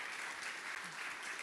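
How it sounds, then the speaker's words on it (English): Steady audience applause fills a conference opening ceremony at the BlueInvest Africa event, a dense, continuous clatter of many hands with no break across the short stretch. "Okay, we're clapping."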